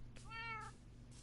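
A cat in the Minecraft video game gives a single clear meow, short and rising, over a quiet low background hum.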